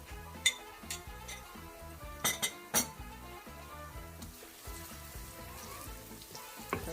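Pounded garlic and ginger frying in a pan for lamb karahi: a soft steady sizzle with occasional sharp clinks of a utensil against the pan.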